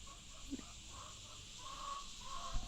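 Hens in a backyard chicken coop give faint, drawn-out squawking calls over steady background noise, with a few quieter clucks and no talking.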